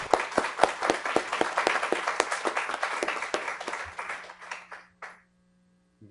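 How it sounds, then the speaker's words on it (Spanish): An audience at a Spanish-language talk on social determinants of health breaks into brisk, dense clapping that holds for several seconds, then thins to a few scattered claps and stops. "Demos un aplauso."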